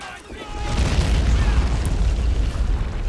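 A tank is destroyed in the WWII strategy game Men of War: Assault Squad, during a Soviet battle at Koenigsberg. A loud, rumbling explosion builds and sustains for a few seconds, with other battle noise around it.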